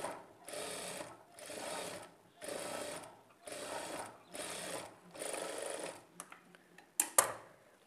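A sewing machine stitches a folded blouse piece in about six quick whirring runs separated by short pauses, close and clear, ending with a few light mechanical clicks.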